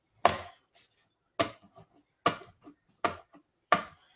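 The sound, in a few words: chopping mushrooms for duxelles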